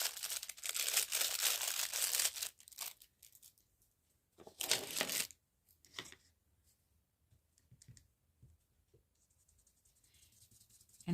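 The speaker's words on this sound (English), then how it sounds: "Sorry for all the crinkling." Loud, close crinkling of plastic art supply packaging as paint brushes are pulled out, two long dense bursts followed by scattered softer rustles and faint handling taps.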